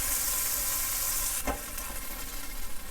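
Beef strips for stroganoff brown in a hot frying pan, giving a steady close sizzle with a brief stir or scrape midway and no talk over it.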